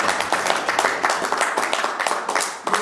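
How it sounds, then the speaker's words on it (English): A small studio audience gives a brief round of applause, scattered hand claps building to a steady patter, moderately close and fairly soft. "Give Colin a nice round of applause in the net championship."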